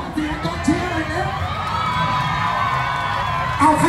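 A crowd cheering and shouting at an outdoor bicycle race, a sustained loud wash of voices with whoops and children's shouts rising near the end.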